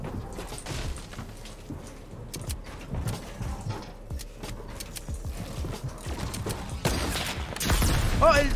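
Video game gunfire: bursts of shots crackle through the match, mixed with other game effects, building louder toward the end.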